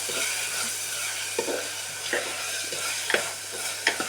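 Chopped vegetables fry with mustard seeds in hot oil, giving a steady close sizzle with several sharp spoon scrapes and stirring clicks, under a low constant hum and no talking.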